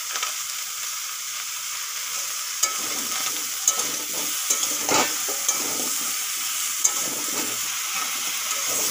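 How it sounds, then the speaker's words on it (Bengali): Bottle gourd pieces fry in a pan with salt and turmeric, giving a steady, loud sizzle broken by occasional sharp clicks as the spoon stirs and scrapes; no one speaks. "লাউ ভালো করে ভাজা হয়ে গেছে"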